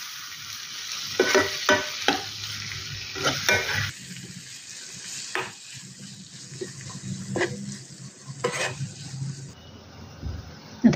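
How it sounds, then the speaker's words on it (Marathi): Three large chopped tomatoes fry in a pan for a Maharashtrian tomato chutney while a spoon stirs them, giving soft sizzling and several scraping, clattering strokes. "3 मोठ्या आकाराचे टोमॅटो या अशा प्रकारे फोडी करून घेतलेले आहेत. आता त्या आपण व्यवस्थित अशा मिक्स करून घेऊया."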